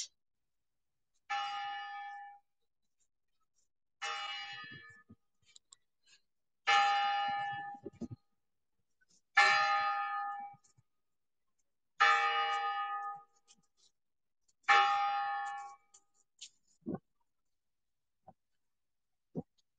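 Bursts of bright metallic bell jingling repeat about every two and a half seconds, six rounds in all, with brief gaps and faint clicks between them, at a market in Saint Petersburg at Christmas.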